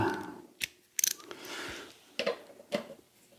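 Bolt being tightened with a ratchet on a Toro Recycler lawn mower, a few short clicking and scraping bursts of metal, close and fairly quiet, with pauses between them.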